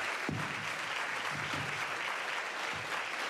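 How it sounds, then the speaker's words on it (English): An audience at a black-tie awards ball applauds steadily and fairly loudly for an absent honoree, a dense wash of clapping lasting the whole stretch without speech. "Let's give her a round of applause in her absence."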